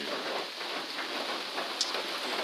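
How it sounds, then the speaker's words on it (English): Steady rain falls at a trail shelter on the Appalachian Trail, a constant soft hiss of drops heard alone, with faint scattered patters on the surface. "And it is raining."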